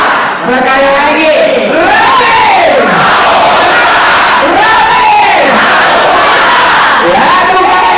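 Thousands of volunteer traders at a Prabowo rally chant a rally yell again in unison, loud massed voices rising and falling in repeated sweeping phrases throughout.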